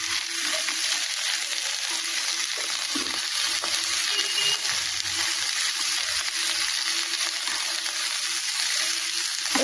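Vegetables including capsicum frying in a pan, a loud, dense, continuous sizzle with bits of stirring and scraping mixed in, close and unbroken for the whole stretch.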